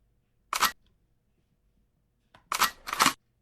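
Three short hissing spritzes from a Xerjoff XJ 1861 Naxos perfume atomizer, one alone, then two in quick succession, close and crisp against silence.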